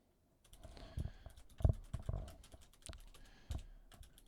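Typing on a computer keyboard to rename a track group in Ableton: a quick, irregular run of close key taps and clacks, with a few louder strikes, heard alone without any talk.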